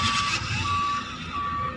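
A power torque wrench tightens a wheel nut, giving a thin, steady squealing tone in repeated bursts over a low mechanical hum, close and without talk.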